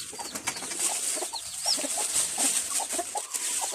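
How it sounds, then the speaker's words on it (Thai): A striped hen with her six chicks, giving soft repeated clucks and chirps nearby against a steady hiss of outdoor background. "โอ้ไก่ลายสวยนี่"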